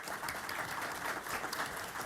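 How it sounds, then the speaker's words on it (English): An audience at a panel event claps for the panelists, with steady, dense applause from a crowd filling the room evenly throughout the brief moment. "Please join me in a round of applause for our panelists."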